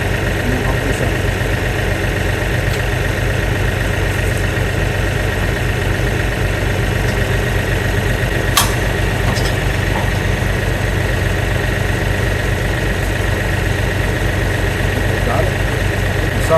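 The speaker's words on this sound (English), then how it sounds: "Now we're going to back the tractor up and make these slide in and lock." A tractor engine idles steadily while backing up to hook on a stump grinder, a loud, even mechanical hum with constant low vibration and no change in revs across the whole stretch.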